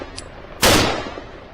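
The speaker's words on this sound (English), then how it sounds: "Gunshots cracked, ending the menace quickly." A single loud gunshot cracks during a wild boar hunt near a wheat field, a sharp blast that fades quickly into quiet.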